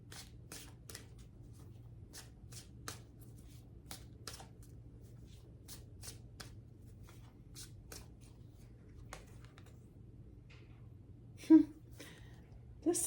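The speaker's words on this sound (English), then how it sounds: "I'm going to pull an angel card" Angel oracle cards being shuffled and drawn from a deck by hand, a series of soft, crisp riffling taps and flicks spread through the clip over a low steady hum, closing with a couple of louder slaps.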